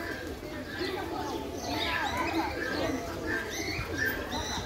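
Soft, low cooing of pigeons repeats in the background while several people chat nearby.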